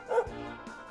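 A dog enemy in Dragon Quest XI gives a short yipping bark near the start, loud and close, over game music that carries on underneath.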